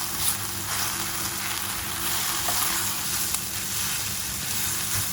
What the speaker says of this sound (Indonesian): Ini tadi pas masukin oncomnya, kita tumis dulu bumbunya sampai kering ya